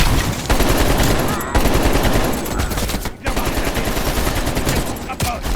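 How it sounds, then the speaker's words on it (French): Heavy machine gun fire in the Call of Duty Cold War campaign, a loud, sustained stream of rapid automatic bursts with brief gaps, dense gunfire continuing nearly throughout. "Détruis la mitrailleuse lourde."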